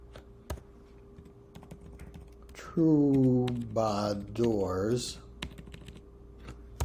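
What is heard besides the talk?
typing on a computer keyboard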